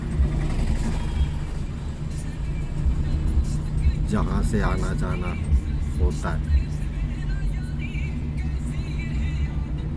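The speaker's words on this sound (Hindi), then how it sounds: "यहाँ हर टाइम ट्रैफिक होता ही होता है।" Engine rumble and horns from slow, jammed traffic on a busy main market street fill the scene, with motorcycles and cars idling nearby while someone talks over the steady din.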